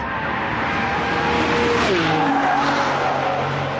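Maserati MC12 supercar driven hard, a broad roar of engine and road noise with a tire squeal sliding down in pitch midway through, loud and continuous with no talk.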